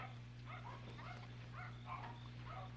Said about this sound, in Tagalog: Pati aso kinakahulang ka na.